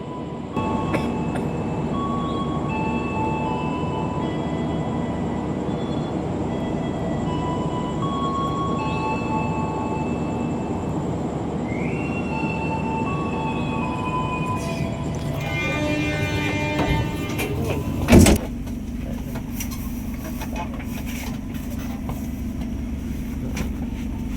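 A Kaligung passenger train stands at a station track, with a steady rumble and machinery drone and scattered faint high tones, then brakes release with a loud hiss and the train begins to pull away.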